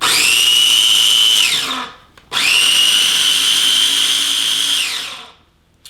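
A small electric chopper whines loudly in two long bursts while blitzing garlic, ginger and coconut into a paste, each pulse rising to a steady high motor pitch and then spinning down, with a brief gap between them.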